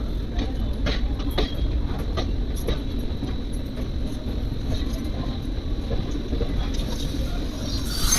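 The Ranikhet Express pulls out and runs along the rails with a continuous rumbling roar and faint rhythmic clacks of the wheels, heard from on board at a steady loudness.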